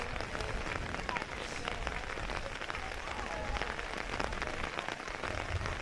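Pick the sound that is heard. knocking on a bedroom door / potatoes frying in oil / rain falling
rain falling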